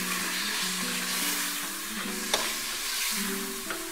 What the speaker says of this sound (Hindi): साथ ही टमाटर डाल दें कटे हुए। इसको अच्छी तरह भूने,